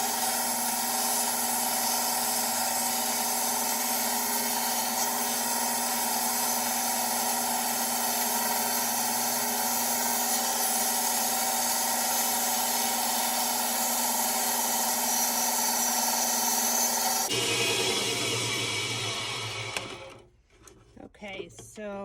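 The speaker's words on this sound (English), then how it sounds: "I'm going to take this over to my mini bandsaw and I'm going to rough cut this" A mini bandsaw rough-cuts a circle with a steady, buzzing drone that holds for most of the span. It stops abruptly near the end, leaving a few clicks and handling sounds.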